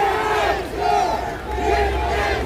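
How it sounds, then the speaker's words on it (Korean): Large outdoor crowd at a political rally roaring and cheering in loud surging waves, chanting voices rising and falling with applause mixed through the din. "다시 한번 큰 박수 부탁드립니다."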